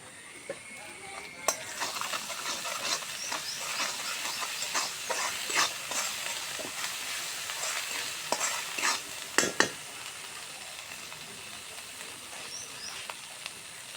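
Cumin and washed soaked lentils frying in a pan, a steady close sizzle and hiss with scattered spoon scrapes and taps, faint talk in the background.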